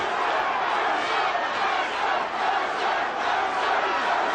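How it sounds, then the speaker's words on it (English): A boxing arena crowd roars steadily in support of a fighter during a heavyweight bout, a dense, sustained cheer filling the whole space without letting up. "And now the Mercer crowd comes to his support."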